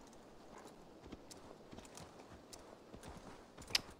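A horse is ridden in Assassin's Creed Valhalla, soft, rhythmic hooves plodding along at a quiet level, with one sharp clink near the end.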